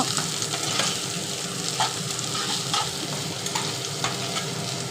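Chopped onion and green chilies frying for Bengali aloo dum, a constant moderate sizzle with light intermittent stirring clicks, no voices.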